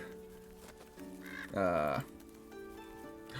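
A short bird call in the cozy video game Tavern Talk, a single brief harmonic squawk of about half a second, heard over soft background game music.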